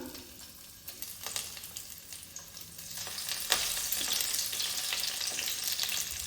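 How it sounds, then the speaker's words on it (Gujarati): Boiled potatoes frying in hot oil make a steady close sizzle that swells louder about halfway through, a dense crackling hiss with occasional stirring sounds. "આપણું તેલ ગરમ થઈ ગયું છે તેમાં બાફેલા બટેકા મૂકી દઈશું તેલમાં"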